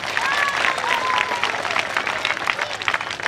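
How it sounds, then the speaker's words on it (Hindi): Dense applause from a crowd, steady and loud throughout, with a few whistles or cheers rising above the clapping. "जोरदार तालियों के साथ आपके स्वागत में"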